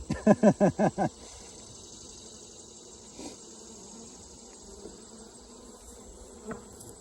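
Steady buzzing of a honey bee colony in an open hive during an inspection, a continuous insect drone that starts with a burst of loud, pulsing buzzes up close.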